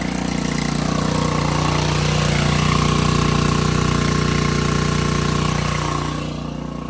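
Steady engine drone of a pump rig transferring maple sap into a collection tank, running loud and close at a constant idle for the whole stretch, easing slightly near the end.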